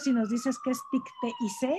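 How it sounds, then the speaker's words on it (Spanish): A police siren wails faintly in the background of a residential neighborhood, a steady sliding tone running beneath a person talking close by. "si escuchan las sirenas de fondo"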